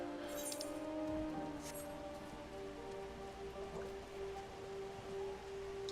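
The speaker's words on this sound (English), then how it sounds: "Oh, it's raining again." Steady rain in Final Fantasy XIV falls as a dense patter of drops on surfaces, with a few brighter splashes and a faint tonal game background beneath, no voices.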